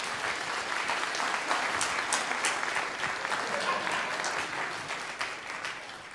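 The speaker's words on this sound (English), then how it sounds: "All right, let's all give Paul a round of applause, huh?" Workshop audience gives a round of applause to a volunteer at a skepticism event, dense continuous clapping from a sizable crowd throughout, fairly distant and even.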